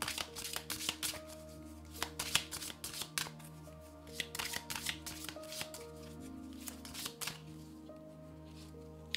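Tarot cards shuffled by hand in a steady run of crisp riffles and soft slaps, close and clear over low background music, with no talking.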